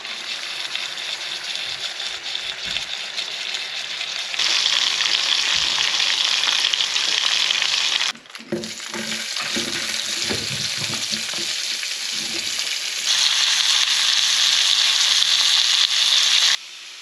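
Chops with a chilli, salt, fennel, coriander and paprika rub fry on a camping stove, a loud continuous sizzle that swells and drops in intensity, with a burst of crackling spatter midway; no speech.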